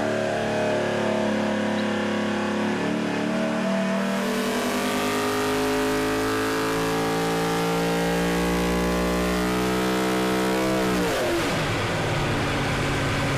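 A KRE V8 race engine running on a test stand after a full service, revving hard with rising and falling harmonic tones, then a sharp drop and a growling settle, loud and close.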